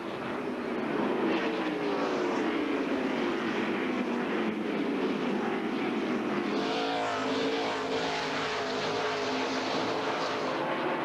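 NASCAR stock cars race at the 2001 Old Dominion 500, the pack's engines forming a loud, continuous roar that swells and shifts as the cars run side by side past the stripe.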